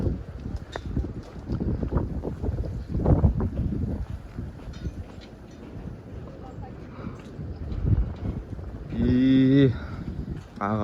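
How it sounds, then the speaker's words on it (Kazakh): Strong, biting winter wind gusts outdoors in February and buffets the microphone with a steady, rough roar that swells near the end; muffled voices sit faintly beneath it. "Жел бар екен андай ызғырық."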